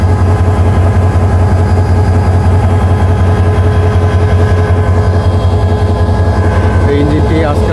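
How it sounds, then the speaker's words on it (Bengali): A 2900-series diesel locomotive hauling the Kalni Express idles loudly nearby with a steady, deep throbbing rumble and layered mechanical hum, voices faintly audible over it. "এই ইঞ্জিনটি আজকে আমাদেরকে সিলেট থেকে ঢাকা টেনে নিয়ে যাবে"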